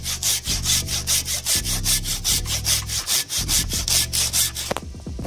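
A hand saw cuts a ring around a standing tree trunk to girdle it, steady loud back-and-forth rasping strokes repeating rhythmically for several seconds before stopping at the end.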